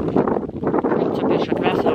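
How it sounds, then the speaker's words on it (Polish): A warm, gentle breeze in Sicily buffets the microphone in continuous soft, rumbling gusts, loud and close throughout. "Cieplusieńko, przyjemny wiaterek wieje."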